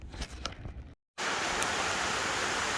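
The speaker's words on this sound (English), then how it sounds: "it's 10 o'clock in the morning and the rain started already" Steady morning rain falls outdoors in a pumpkin-growing garden, a dense, even hiss that starts abruptly after a brief silence and continues loud and unbroken.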